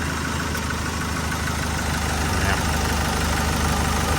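Diesel engine of a Nissan Navara pickup idling steadily with a low, even rumble and faint knock, close and continuous with no talk.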